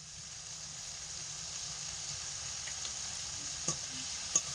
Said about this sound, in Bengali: তেলের মধ্যে টমেটোগুলোকে দিয়ে খুব ভালো করে কষিয়ে নিয়েছি, টমেটোগুলো একদম গলে গেছে।